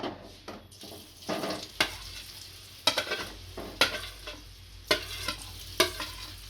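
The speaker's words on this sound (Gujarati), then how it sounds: "અને એકદમ ઘીમાં શેકી લેશું આપણે" Grated sweet potato stirred and sizzling in ghee in a pan for a sweet shira, with repeated sharp scraping strokes of the spoon over a steady close frying hiss, no talking.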